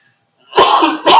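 Two close, loud coughs, the first longer and rougher, the second short and sharp, heard alone after a moment of silence.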